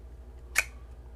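A single sharp click as a knife is pulled from a Boltaron/Kydex trigger guard sheath, quick and crisp against a quiet room.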